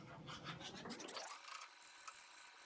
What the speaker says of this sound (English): Scrub away. You can go pretty aggressive on these too.